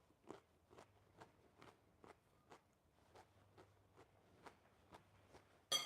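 Crisp, close crunching from someone chewing a raw vegan lunch with curry sauce, about a dozen evenly spaced bites that repeat steadily and quietly, with no talking.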